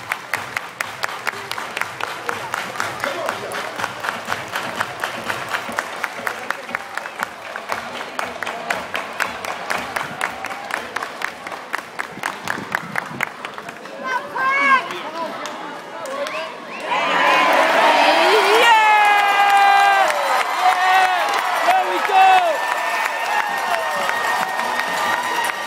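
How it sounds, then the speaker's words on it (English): A baseball crowd at a Long Island Ducks playoff game claps in a steady unison beat, then bursts into loud cheering, whoops and shouting that holds to the end. "Everybody clap your hands."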